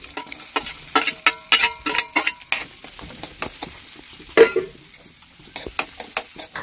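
Onion, cumin and chopped red chili fry in ghee in a kadai, with a low sizzle under frequent sharp clinks and scrapes of a spoon stirring against the metal, close and without voices.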